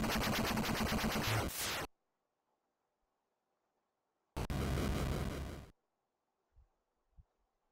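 Wily's fortress blows up in the Mega Man 4 video game, two loud bursts of retro 8-bit explosion noise, each roughly a second or more, separated by a quiet gap, followed by a couple of faint low thumps.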